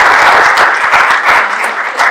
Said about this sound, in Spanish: me gustaría que les dieran un aplauso